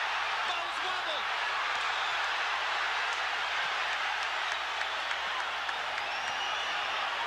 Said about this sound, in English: Crowd lights up as Gołota lands a combo.